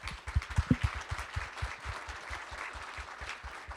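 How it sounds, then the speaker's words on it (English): Audience at a ports industry event gives a round of applause, a steady patter of clapping that stays moderate and fairly even throughout, with no talking over it. "I think that deserves a round of applause."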